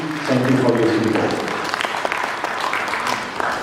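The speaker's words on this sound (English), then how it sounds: "Please, a big round of applause to our panelists" Audience applause for conference panelists at the close of a consumer risk perception panel, a dense wash of clapping filling the room with a voice speaking over the start.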